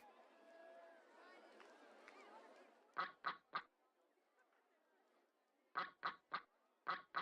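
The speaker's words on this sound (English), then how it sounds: "Quack, quack, quack, quack." Ducks quack in the OpenRCT2 video game, two quick groups of three or four sharp quacks each, after a stretch of game sounds and music.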